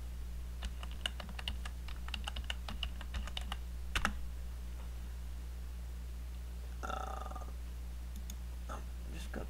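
Quick bursts of keystrokes on a computer keyboard while a search is entered in Siemens NX CAD software, over a steady low hum, with another short flurry of clicks near the end.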